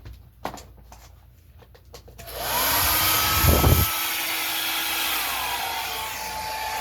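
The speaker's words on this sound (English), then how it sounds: "you can always do it with the blow dryer. You just have to turn it up on high." After a few faint clicks, a hair dryer switches on at its high setting and blows with a loud, steady high-pitched whoosh that keeps running to the end.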